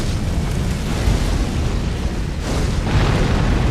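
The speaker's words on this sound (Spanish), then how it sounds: "Explosión de proyectiles." Projectile explosions in the game Elden Ring Shadow of the Erdtree, heavy loud rumbling blasts that roll together in a dense continuous roar, with a fresh surge near the end and no speech.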